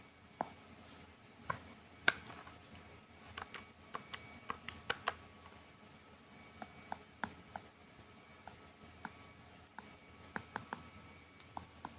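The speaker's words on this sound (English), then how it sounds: "If you type this into the calculator" Keys tapped one at a time on a calculator while entering numbers for a statistics calculation, quiet irregular clicks spread out with short pauses between presses.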